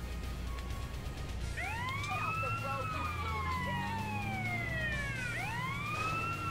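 An ambulance siren in GTA: San Andreas video game wails, rising and falling twice, moderately distant, over a low engine rumble and background noise.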